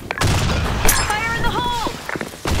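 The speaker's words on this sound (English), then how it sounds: "Grenade! Fire in the hole!" A grenade explosion in the online shooter BlackShot, a sharp boom followed by scattered gunfire pops and battle noise, loud and close, mixed with voiced callouts from the game.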